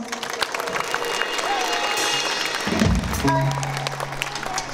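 An audience at a school celebration applauds to welcome a band, with steady dense clapping and some crowd noise, ending in a low sustained tone.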